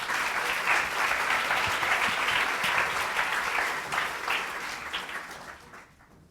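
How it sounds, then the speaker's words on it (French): A seminar audience at a francophone fundraising conference applauds a speaker, with dense, sustained clapping that gradually fades away at the end. "Et je vous demande de l'applaudir."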